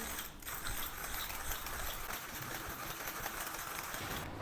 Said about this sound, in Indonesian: Sekarang waktunya kita giling beans kopinya.